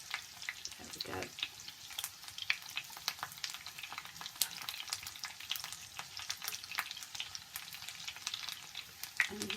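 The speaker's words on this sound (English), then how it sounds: "you turn them over a few times until they're beautiful and crispy" Corn and vegetable fritters fry in a pan with a soft, continuous crackling sizzle and scattered sharp pops, fairly quiet and close, with no one talking.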